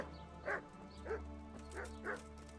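A dog in Kingdom Come: Deliverance gives four short barks at an even pace, moderately close, over a steady low background hum.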